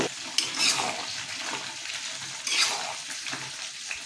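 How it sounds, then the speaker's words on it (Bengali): Fried chicken pieces stirred into sauce in a pan for chilli chicken, giving a soft sizzle with a few louder scrapes and clinks of the spoon, close by, no one talking. "ভেজে রাখা চিকেনের টুকরোগুলো দিয়ে কিছুক্ষণ নাড়িয়ে নেব"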